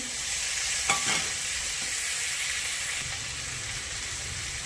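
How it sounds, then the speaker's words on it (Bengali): Fried prawns go into a sizzling pan of fried potatoes for a bottle gourd and prawn dish, with a brief scrape of stirring near the start over a steady close hiss of frying. "ভেজে রাখা চিংড়ি মাছটা দিয়ে দেবো"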